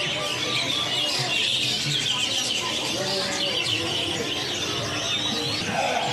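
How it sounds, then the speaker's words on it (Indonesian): Canaries sing in a busy bird market at Pasar Pramuka, giving dense overlapping high chirps and trills throughout, with other caged birds and faint background bustle mixed in. "untuk kenari gacoran nih, burung pada gacor semua"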